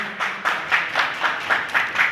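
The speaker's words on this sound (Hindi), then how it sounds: "जोरदार वाली तालियां हो जाए।" An audience at the opening of a dance festival in Udaipur claps in a steady rhythm, with evenly spaced, moderately loud beats repeating about four times per second.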